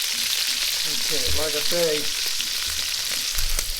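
Chicken pieces for a green chili chicken stew fry in a pan with a steady, dense sizzle throughout, while a voice talks briefly over it near the middle.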